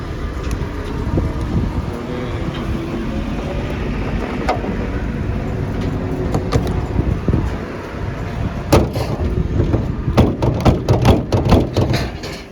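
A used petrol car bought at a salvage auction, engine running at a steady idle with a dense low rumble, plus sharp clicks and knocks toward the end, recorded close and outdoors with some wind.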